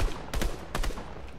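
Rapid bursts of gunfire from a Marvel video game, two dense volleys of quick shots a few tenths of a second apart, loud and close over a steady game background with no talking.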